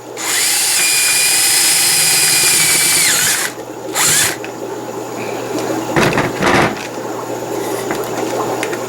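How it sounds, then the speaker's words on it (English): A power drill whines loudly and steadily for several seconds while boring a hole in the middle of a plastic cup, then cuts off, followed by a brief restart burst and some handling clatter. "that's going to be the hole that I drill right in the middle"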